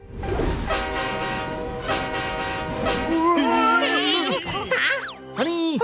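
Cartoon train horn blasting over a passing train in an animated comedy, loud repeated toots with wailing, swooping horn-like tones, close and prominent.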